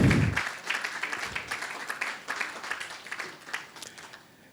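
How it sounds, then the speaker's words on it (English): Applause from the audience at a Rotary Club of Accra-Spintex presidential investiture, a dense wash of many clapping hands that starts strong and slowly fades toward the end. "Can we give him a round of applause, please?"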